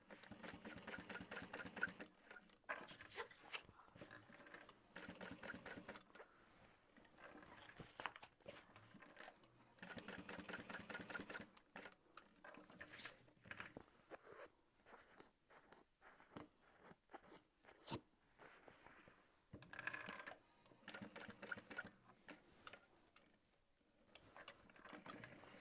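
A sewing machine stitches through a quilted vinyl bag panel in bursts of rapid mechanical chatter, with short pauses between runs, close and steady, with no one talking.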